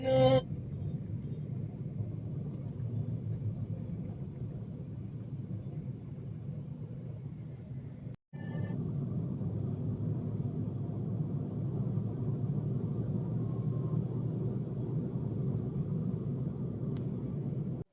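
Low, steady rumble of vehicle engines idling and creeping forward in a slow queue at a highway toll plaza, continuous and droning with one brief cut partway through.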